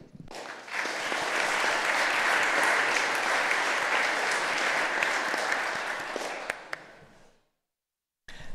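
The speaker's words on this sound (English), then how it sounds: "if the senators would give a round of applause for them" Senators in a state Senate chamber give a steady round of applause, even and sustained for about six seconds before fading out into silence.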